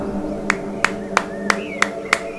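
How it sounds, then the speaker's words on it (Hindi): A few people clap in slow, separate single claps, about six evenly spaced strikes over a faint background hum, with no one speaking. "ताली बजाओ भाई लोग"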